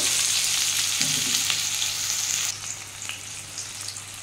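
Onions and black cumin (kalonji) sizzling in hot oil, a steady broadband frying hiss with a brief stronger burst near the start, easing slightly in the second half, close and continuous with no talk.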